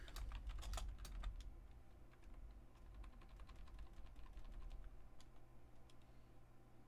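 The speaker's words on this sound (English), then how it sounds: "here's where I can type anything I want." Rapid, quiet clicking of keys on a computer keyboard, bursts of typing with brief pauses, heard close over a low steady hum with no talking.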